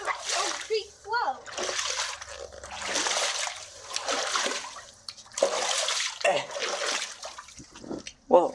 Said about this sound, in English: Oh, the tunnel. Bro, you made the creek flow.